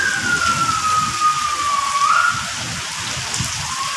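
Heavy rain pours steadily during a storm as wind dies down, a dense hiss running throughout, with a faint siren-like tone gliding in the background.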